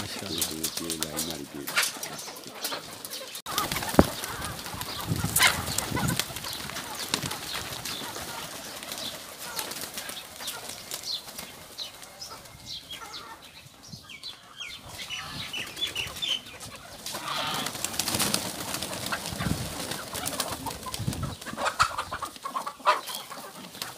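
Chickens and ducks mixed together in a bird enclosure, clucking and squawking nearly nonstop with bursts of flapping wings, close and busy, while people talk intermittently.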